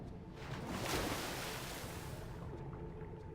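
Ocean water and waves in Final Fantasy X, a continuous rushing wash of surf that swells briefly near the start and then settles into a steady roar, close and fairly loud with no voices.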